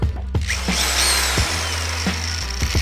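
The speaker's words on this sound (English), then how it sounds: "Go slow with the screws when you're this close to the edge of a board." A power drill drives screws into porch deck boards near a board's edge, loud and close, whirring in short bursts separated by quick stops and restarts.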